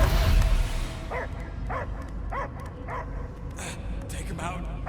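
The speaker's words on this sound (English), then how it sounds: "I hear only barking." A dog barks in the video game Marvel's Guardians of the Galaxy: six or seven sharp barks in an even rhythm over a low rumbling game background.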